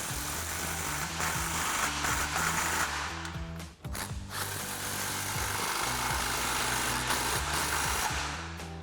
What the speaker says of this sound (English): we can tighten both of these down with a 15mm socket